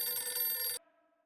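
A telephone rings in a TV sitcom home scene: one loud, bright electronic ring burst lasting under a second, then cut short, leaving a faint tonal tail.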